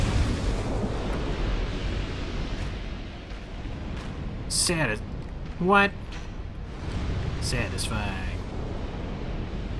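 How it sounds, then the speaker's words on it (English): Explosive barrels blow up while enemies are killed in Dark Souls 2 Scholar of the First Sin, giving a steady, rumbling roar of blasts and fire throughout, with someone commenting briefly over it. "Killing enemies with explosive barrels is great"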